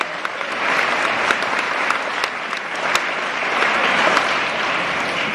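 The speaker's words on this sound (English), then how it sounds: "A round of applause." A round of applause breaks out at a food bank volunteer appreciation luncheon, with sustained, fairly loud clapping from a crowd and faint voices mixed in.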